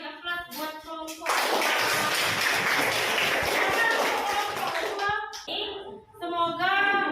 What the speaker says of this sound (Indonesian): silakan beri aplaus buat kelompok.